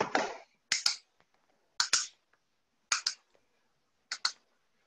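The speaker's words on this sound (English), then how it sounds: "If it's too easy, try clapping twice," Sharp hand claps during a ball toss exercise in a family fitness session, heard in four separate paired bursts of two quick claps each, spaced about a second apart, with a brief breathy sound at the start and no talk.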